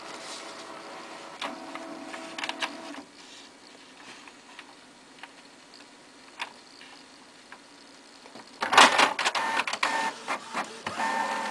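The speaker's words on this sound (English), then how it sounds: "I'm printing it in black ink" An inkjet printer prints a fabric label sheet in black ink, giving soft mechanical whirring and ticking passes with a louder burst of feeding and clattering near the end, close and fairly quiet.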